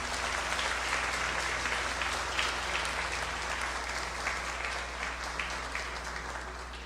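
Church congregation applauding the Lord during a worship service, a steady, dense wash of clapping from many hands that holds at an even level throughout.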